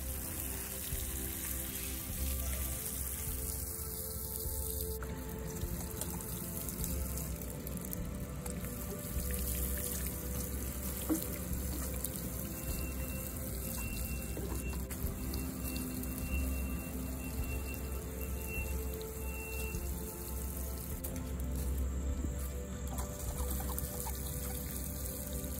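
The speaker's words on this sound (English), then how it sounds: "I'm going to water in my seeds because you have to, and my hose is broken, so I have to use my water can" A watering can sprinkles water over newly sown onion seeds in a garden bed, a gentle, continuous patter and trickle heard close up against a faint hum for about twenty-five seconds, with no voices.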